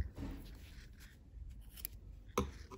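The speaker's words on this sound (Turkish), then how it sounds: "Bitirdim, kesiyorum." Scissors snip through cord, with a few quiet cuts close by and a sharper final snip near the end, faint overall.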